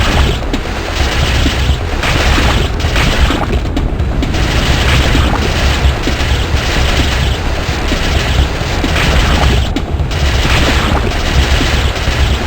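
Sustained, dense gunfire from the horror video game Ripper, loud and continuous for the whole stretch, with booming shots and rapid bursts layered into a constant roar.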